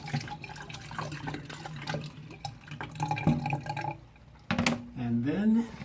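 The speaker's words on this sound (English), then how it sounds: "I'm going to wash the cabbage just once, get some of that extra salt off" Salted cabbage being rinsed under running tap water in a sink, with splashing and trickling throughout and a louder gush near the end. A person talks over the water.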